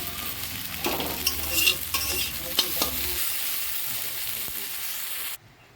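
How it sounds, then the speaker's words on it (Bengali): Okra (bhindi) frying in oil in a pan, stirred with a utensil: a steady sizzle with clicks and scrapes of stirring through the first few seconds, then a quieter hiss before the sound cuts off near the end. "বন্ধুরা ভেন্ডি ভাজা আমার হয়ে গেছে"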